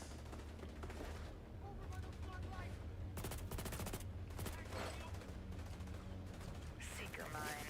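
Video game gunfire from a game shown at the Microsoft E3 2018 presentation: dense bursts of automatic fire and loud cracking shots, with a sustained volley in the middle, all under a layer of game music and effects. Voices talk over it.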